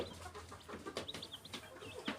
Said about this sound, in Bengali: এখানে মুরগি বাচ্চা আছে